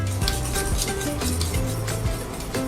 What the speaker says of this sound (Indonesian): Dan selagi masih hangat, akan kita tambahkan gelatin foam. Kita aduk kembali